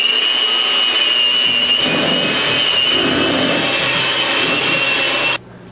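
Chocolate chip cookie ingredients being mixed in a large bowl, probably with a powered mixer: a steady whirring motor whine runs without a break, then cuts off abruptly near the end.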